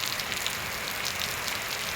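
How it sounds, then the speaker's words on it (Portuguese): Heavy rain pours steadily in Boapaba, a dense, even hiss of drops with no breaks, close and fairly loud throughout. "A chuva voltou boa, boa mesmo."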